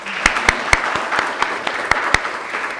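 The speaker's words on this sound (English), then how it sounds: "Round of applause for yourselves." Audience applause at a royalty reality show gathering, a dense patter of claps with several sharp, louder individual claps standing out near the mic, steady throughout.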